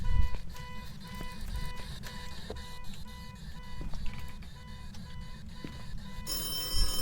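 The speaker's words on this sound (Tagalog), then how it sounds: "May nagring na ano, telepono." Repeated electronic telephone ring inside the Phasmophobia ghost-hunting video game, sounding in short regular bursts over low background rumble, moderately quiet and with no talking.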